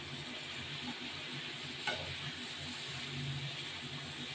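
Prawns frying in a pan with potato, pumpkin and jackfruit seeds give a steady, close sizzle and crackle as a little water is added, with one brief sharper hiss partway through.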